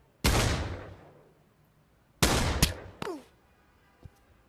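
Gunfire in the VR shooter Pavlov: a loud close single shot, then another shot about two seconds later followed by quick metallic clicks and a faint final tap, with no talking.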